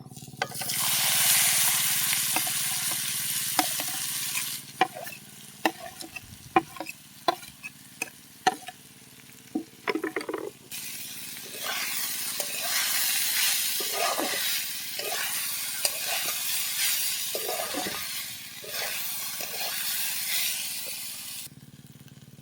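Radish, potato and peas fry in a pan, a bright sizzle fading into softer frying while a spatula scrapes and stirs in frequent irregular knocks, then the sizzle swells again.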